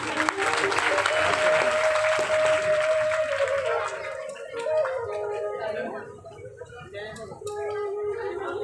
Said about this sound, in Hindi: हमारे महाराज जी के लिए एक बार और जोरदार तालियां